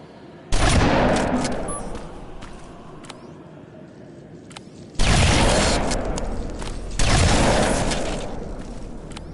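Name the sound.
shotgun fire in video game Terminator Resistance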